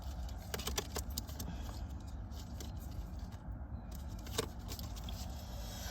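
Tarot cards are reshuffled by hand in a quiet room, giving a faint, continuous papery patter with a few sharper flicks and no talking.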